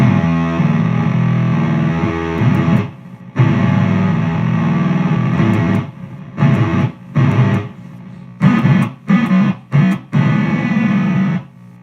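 Electric guitar through an MXR Blue Box octave fuzz pedal, heavily fuzzed with a buzzy, octave-doubled tone, sustained notes at first, then a run of short choppy stabs with quick cutoffs.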